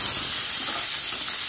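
Almonds and cashews fry in hot oil, giving a loud, continuous sizzling hiss up close with no pauses or voices.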